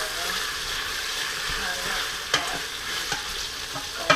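Onions, peppers and garlic sizzle steadily in a hot pan, a continuous bright frying hiss broken by a few sharp scrapes and clicks of a spoon stirring; no one speaks.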